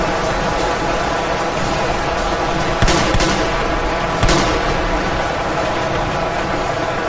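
Gunfire in the video game Ultimate Epic Battle Simulator 2, a dense, steady wash of distant battle noise with two sharper shot cracks standing out near the middle.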